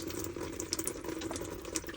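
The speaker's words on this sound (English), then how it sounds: "both the valves are pouring water out" Water pouring steadily through the inlet valves of an LG washing machine stuck in continuous fill, a faint, constant rushing flow with no voices.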